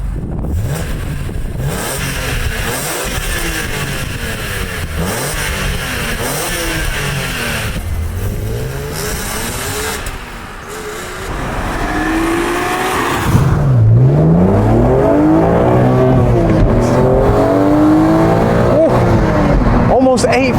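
A BMW Z4 M Coupe about 15 or 16 years old, its engine revving hard and accelerating toward about 8,000 RPM, loud and rising in pitch from inside the cabin, with brief talk over it.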